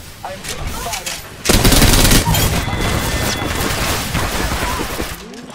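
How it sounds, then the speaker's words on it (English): Gunfire in the battle royale game Apex Legends, with bursts of rapid shots and a loud flurry near the middle that thins into steady combat noise. Game voices talk over parts of it. "I'm taking fire."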